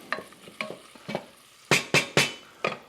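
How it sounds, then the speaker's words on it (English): Garlic and onions cooking in a pan for tomato soup, a soft sizzle under a series of sharp stirring or scraping strokes, a few light ones early and louder ones near the end. "A little bit of garlic in the pan with the onions. Let that cook for a minute."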